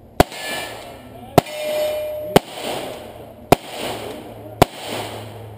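Five loud shotgun blasts at a cowboy action shooting match, evenly spaced about a second apart outdoors, each sharp crack followed by a short rolling echo.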